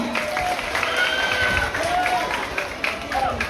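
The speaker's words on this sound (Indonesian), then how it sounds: "Tepuk tangan untuk kita semua." Students applauding at a school debate for student council candidates at a junior high in Lemahabang, a moderate crowd clapping with voices and tonal shouts or whistles rising over it.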